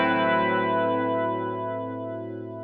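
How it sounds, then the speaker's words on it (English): An extended minor 6th chord struck once on an instrument run through effects, its sustained layered notes ringing out and slowly fading with a chorus-like shimmer and echo. "Here's how such a chord might be voiced."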